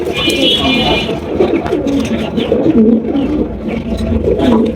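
A pair of big black German shield pigeons coo repeatedly and loudly up close, with low throaty calls overlapping and faint human voices in the background.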